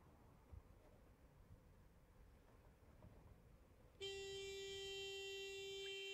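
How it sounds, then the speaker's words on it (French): Truck air horn mounted on a bicycle sounds one long, loud, steady blast that cuts in suddenly after a few seconds of quiet outdoor background noise. "c'est un klaxon de camion qu'il a sur son vélo"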